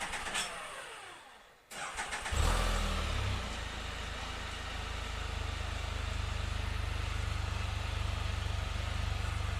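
A Can-Am Spyder RT in a shed: a starter whirs briefly, the engine catches, then settles into a steady, loud, close idle with a deep continuous rumble.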